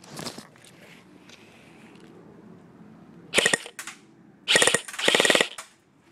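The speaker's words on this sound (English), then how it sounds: "that's one mag. Just gonna reload it really fast" Airsoft magazine being quickly reloaded for a CQB gun, with soft handling noise followed by three sharp bursts of rapid ratcheting clicks near the end, loud and close.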